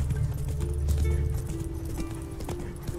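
Hoofbeats of a horse in The Witcher 3 video game, a steady rhythmic clip-clop at moderate distance over a low background rumble.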